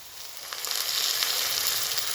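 Fried onion with turmeric, chilli powder, cumin, garlic and ginger pastes sizzling in a pan: a bright, steady hiss that swells slightly and stays close, with no talk.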